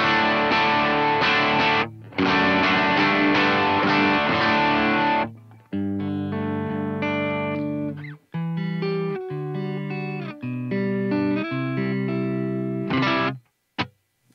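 An electric guitar plays through the yellow side of an overdrive pedal on a worship pedalboard with no reverb: dry, distorted strummed chords, then single notes and short riffs with brief pauses between.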